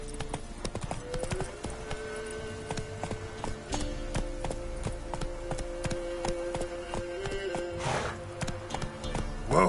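Roach, a horse in a video game, gallops with a rapid, steady drumming of hooves under a low, constant background, a few sharper knocks standing out near the end.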